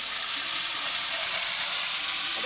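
A paste of ground onion, chili, garlic and ginger frying in a pan, a steady loud sizzle that holds unbroken throughout with no talking.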